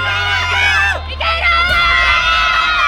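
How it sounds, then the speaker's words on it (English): Spectators at a lead climbing final in Bali cheer and shout loudly, a dense wash of high voices and whoops that swells and continues throughout, close and energetic. "The heat of the peninsula island, Bali, doesn't stop the crowd from cheering Mori."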